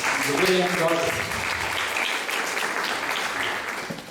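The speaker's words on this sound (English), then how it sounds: "Let's give him a big round of applause." Audience applause at a music program introduction, a full burst of clapping that starts strong and gradually thins as it fades, with some voices under the start.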